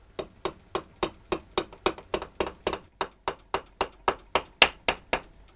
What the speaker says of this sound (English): I'm just going to finish off tapping it down with this rubber mallet so it locates on the dowels.